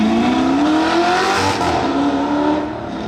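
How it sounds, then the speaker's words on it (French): A Renault Sport car runs a red light, its engine rising in a loud, climbing rev as it accelerates past nearby, then easing off. "Regardez le feu rouge, waouh, la Renault Sport. Feu rouge, et allez, ça grille le feu"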